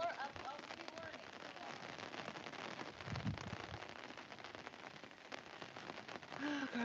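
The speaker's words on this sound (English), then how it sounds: "this rain just got steadier and steadier." Steady rain falls throughout during a fishing outing, a dense, continuous patter on surfaces with a brief heavier burst midway, while people talk faintly underneath.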